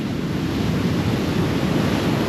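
Surf waves at Sapphire Beach, Coffs Harbour, NSW, Australia, on a morning beach walk: a steady, unbroken wash of breaking water with some wind rumble across the microphone and no voices.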